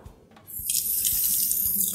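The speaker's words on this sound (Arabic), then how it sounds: "ونغسل ايدينا" A kitchen tap runs steadily into a sink as hands are washed after cutting chicken, starting quietly then turning into a full, close rush of water that holds for the rest of the clip.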